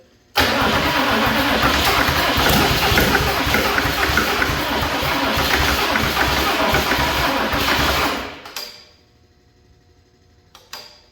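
A 1965 Chevy C30 shop truck engine catches and roars loudly on its first firing, running rough and steady for about eight seconds before cutting off abruptly, leaving near silence with a few faint clicks.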